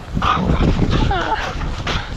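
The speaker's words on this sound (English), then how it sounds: "I'm fighting this dog." A dog yips, barks and whimpers up close out on early-season ice while fishing, its short excited bursts overlapping a voice talking over it.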